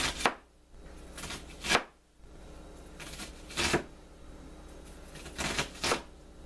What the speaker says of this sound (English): So I'm going to start out by cutting up the onion.